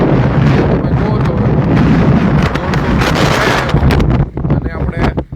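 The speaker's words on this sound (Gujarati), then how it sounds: "હાલ તો જે પવન છે તમે જુઓ છો" Strong outdoor wind buffets the microphone in Halvad town during cold, unseasonal rainy weather. A loud, continuous roaring rush fills most of the clip and eases in the final second.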